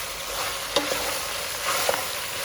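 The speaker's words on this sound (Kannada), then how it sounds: "ಶುಂಠಿ ಬೆಳ್ಳಿ ಪೇಸ್ಟಲ್ಲಿ ಅಂತ ಹಸಿ ವಾಸನೆ ಹೋಗಬೇಕು ಅಲ್ಲಿವರೆಗೂ ಚೆನ್ನಾಗಿ ಫ್ರೈ ಮಾಡ್ಕೊಳ್ಬೇಕು" Ginger garlic paste frying in a hot pan for mutton sambar, a continuous close sizzle with a few light stirring scrapes, no one talking.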